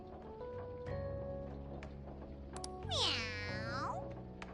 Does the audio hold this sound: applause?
no